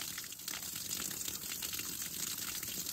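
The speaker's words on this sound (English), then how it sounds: "Just the sound alone of fresh water is just great." Fresh water gushing steadily from a spring or pipe at a wilderness cabin in Alaska, a close, continuous broadband rush that fills the moment without voices.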